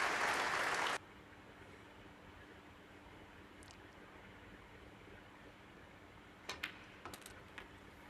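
A snooker crowd applauds frame ball for Ding Junhui in the International Championship final against Chris Wakelin. A loud burst of clapping is cut off after about a second, leaving a quiet hall with a few faint clicks.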